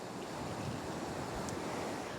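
Strong surf pounds the Cantabrian coast under steady gusting wind, a dense continuous roar of breaking waves with wind buffeting the microphone, loud and unbroken with no voices.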